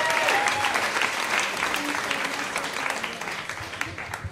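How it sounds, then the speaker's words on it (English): Loud, sustained applause and crowd noise fill a Moth StorySlam storytelling venue in Los Angeles, a dense roar of hands that slowly tapers toward the end. "let's give Rich one more round of applause and keep it going for Kevin McGeehan."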